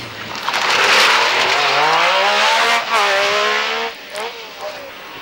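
A Metro 6R4 rally car at the Cork 20 rally passes close and loud, its engine note rising and falling through gear changes with a roaring, gravelly rasp that fades away near the end.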